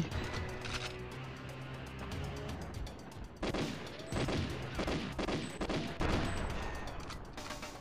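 Dense gunfire in GoldenEye 64 HD, a continuous rattle of rapid automatic shots with several loud bursts near the middle and a steady barrage throughout, no voices.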